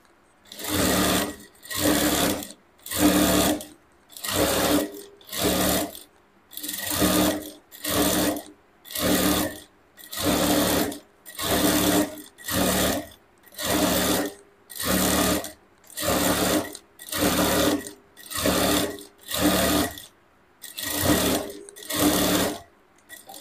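A sewing machine stitches strips for a hoop skirt petticoat in regular bursts, each run of stitching lasting about a second with short pauses between. Each burst is clear and close, with no voice.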